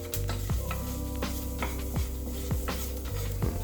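White pepper is stirred into a cooking pot for pumpkin soup: a spoon scrapes and knocks in regular sweeps, close and clear, while a steady sizzle continues underneath.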